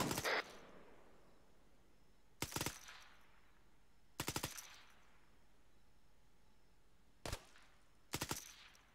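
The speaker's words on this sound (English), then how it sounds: "Is one of you shooting at me? Because that sounds awfully fucking close." Gunfire in the video game Arma 3: five sharp bursts of shots, some single cracks and some quick rapid strings, spaced several seconds apart with faint echoing tails and quiet gaps between.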